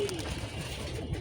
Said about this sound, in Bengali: চমকে গেছে কবুতরগুলো